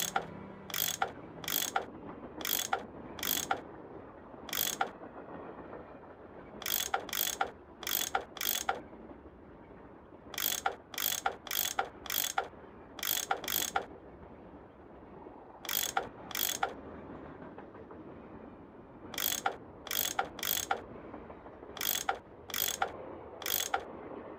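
Tool turning bolts loose in a Nancy Drew adventure game, sharp ratcheting clicks in quick groups of three to five, repeated with short pauses between, crisp and close over a quiet ambient background.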